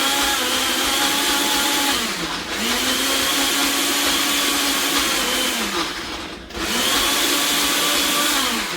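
A Ninja blender whirs loudly and steadily as it purees strawberries and milk, its motor pitch dipping briefly twice as the load shifts, heard close and alone.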